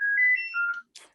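A home telephone ringing, a short electronic melodic chirp of stepped tones, fairly clear and close, then cutting off with a brief faint click.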